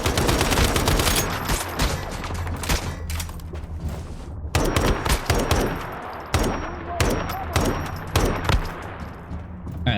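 Assault rifle fire from the survival shooter game Once Human crackles in loud, rapid bursts, with short pauses between volleys and sharp single shots near the end.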